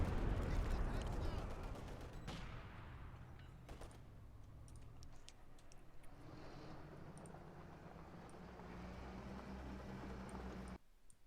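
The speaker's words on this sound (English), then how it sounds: "Splayed rockets coming in. Not hitting the mark." Rockets and gunfire in a video game battle on the Arnhem Checkpoint map, a dense rumbling barrage with scattered sharp bangs, steady at a moderate level beneath a commentator's talk.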